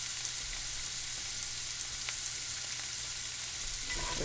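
Carrots frying and softening in a pan give a steady, close, even sizzle with fine crackles throughout, and no voices over it.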